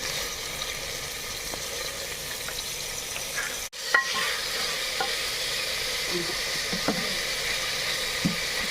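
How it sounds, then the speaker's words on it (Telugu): Onion and tomato pieces sizzle steadily in a hot pan, with scattered stirring scrapes and a brief dropout near the middle before the frying hiss resumes. "కొద్దిగా ఉల్లిపాయ ముక్కలు టమాటా ముక్కలు మెత్తబడే వరకు వేసుకుంటే సరిపోతుంది"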